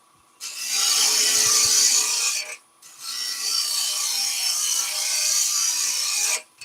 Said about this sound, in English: I'm using the bottom edge of the gouge almost like a skew chisel. So we're shearing away the timber.